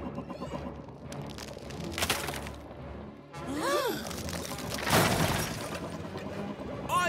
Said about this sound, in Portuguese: Tem alguma coisa atravessando a parede de gelo.